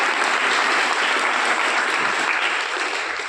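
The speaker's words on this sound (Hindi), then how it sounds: "इस पे एक बार और जोरदार तालियां।" A large audience at a fire safety week gathering gives dense, vigorous applause, steady and loud throughout the short burst.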